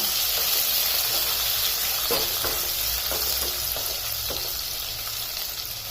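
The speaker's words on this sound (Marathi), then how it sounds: "लसण आपल्याला थोडंसं ब्राऊन होईपर्यंत फ्राय करून घ्यायचा" Garlic fries in a pan with ginger in a Maharashtrian dhaba-style fenugreek dish, giving a loud, steady, close sizzle with occasional soft stirring scrapes.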